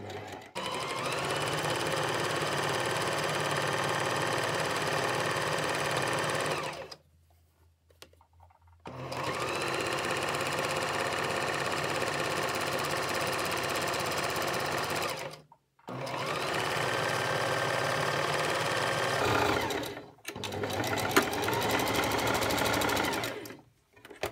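A sewing machine stitches a gathered wrist band, running in long, even, rapid bursts separated by short stops, close and loud throughout with no talk.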